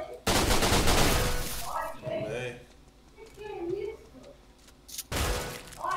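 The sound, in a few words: gunshots in a shooter video game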